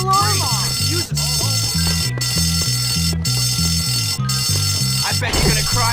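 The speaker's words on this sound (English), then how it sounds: "Who set that alarm off?" A fire alarm rings continuously in the video game Bully, a loud, steady, pulsing electronic alarm over a repeating game music loop, with voices shouting over it.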